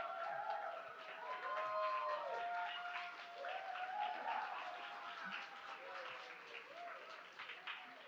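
Church youth group at a summer retreat evening service applauding and cheering, steady clapping with shouts and whoops from the crowd over about eight seconds, moderately loud in a reverberant hall.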